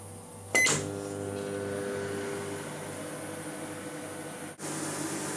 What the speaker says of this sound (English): Then straight in the microwave